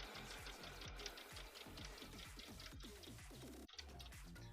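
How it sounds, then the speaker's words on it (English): A sewing machine stitching horsehair braid for a cosplay skirt, a fast steady mechanical chatter of repeated stitch strokes with a brief pause, close and continuous, with no talking. "So again, just still sewing in horsehair braid."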